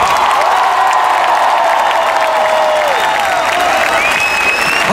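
Applause from a live concert crowd at Lucca Comics & Games 2019, a steady dense wash of clapping that fills the whole stretch at close, loud level, with some crowd noise mixed in.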